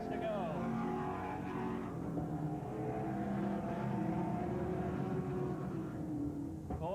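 Late model race cars roar together around Brighton Speedway in 1992, a dense continuous engine drone with shifting pitches from several cars at once, under steady race commentary.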